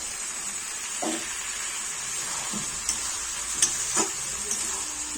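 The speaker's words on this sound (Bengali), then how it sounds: "আবারও ভালোভাবে কষিয়ে নেবো" Minced chicken sizzling in a pan with boiled peas for Bengali chicken ghugni, a steady hiss of frying broken by a few soft stirring scrapes.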